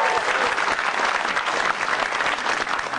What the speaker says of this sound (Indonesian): Tepuk tangan dulu dong untuk Metro TV.